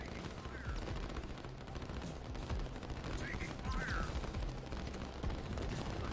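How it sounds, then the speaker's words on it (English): Gunfire in the Line War strategy game: rapid bursts of shots and machine-gun fire rattling steadily at moderate volume, continuous throughout with faint background noise. "Taking fire."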